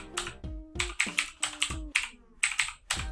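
Typing on a computer keyboard, a quick close-up run of clacking keystrokes in small irregular clusters, with faint tonal hum between strikes and no speech.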